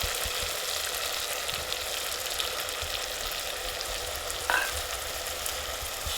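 Buttermilk going into a pan of cooking okra and fenugreek: an even, close sizzling hiss with a soft liquid texture and one brief clatter partway through, with no talking.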